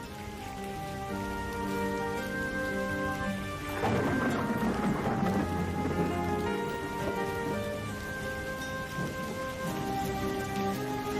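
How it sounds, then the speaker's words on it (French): Steady heavy rain pours down continuously, a dense hiss of drops that swells slightly partway through, with a sustained tonal hum underneath. "Mince, il pleut, il pleut. Allez, vite, vite, vite, on va sous la vache. Et il pleut des cordes."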